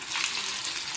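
Fish pieces deep frying in hot oil for a hotel-style fish fry, a dense continuous sizzle that stays loud and steady throughout with no voices.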